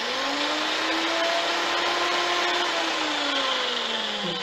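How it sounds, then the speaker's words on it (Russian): An electric drill runs continuously as a homemade vibrating massager, giving a steady, close motor whine with a slight wavering pitch and a buzzing rattle throughout. "Вставляю дрель, упираюсь рукой и включаю"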